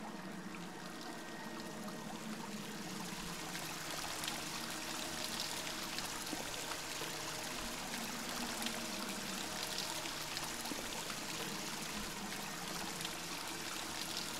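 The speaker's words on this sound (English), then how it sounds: "Waterfall." Waterfall in the video game Dear Esther, a steady rushing and trickling wash of water that holds an even level throughout with no talk over it.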